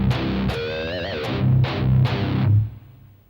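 A distorted electric guitar lick, with the bottom two strings struck open three times around a wavering bent high note, loud, chugging and close, with no talk.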